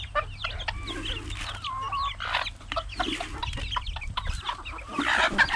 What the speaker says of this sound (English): so that Jane can see the chickens